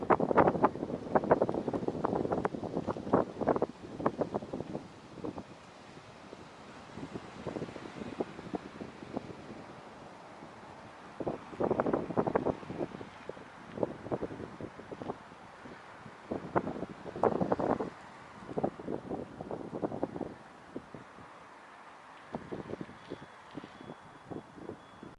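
Wind gusts buffet the microphone at Yosemite near Horsetail Falls, rising and falling in rough rumbling bursts for the whole stretch with no other clear sounds.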